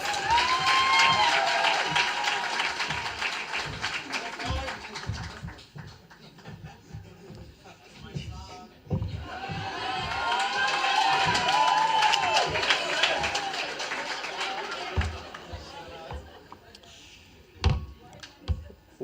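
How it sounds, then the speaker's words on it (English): An audience at a school monetary policy challenge winners' ceremony applauds and cheers in a lively, dense burst, with a short lull midway before a second swell of clapping and crowd noise. "Let's give him a round of applause."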